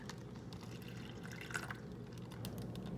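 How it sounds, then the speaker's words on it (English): Half a cup of water is poured into a plastic bag, making a faint, close trickle and splash that runs briefly and quietly. "you're gonna wanna take your half a cup of water and just pour it right into the plastic bag."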